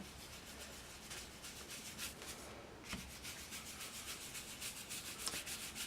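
Quiet, steady rubbing as Microglaze is worked into a paper envelope bearing calligraphy, soft repeated strokes close by with faint rhythmic swishes throughout.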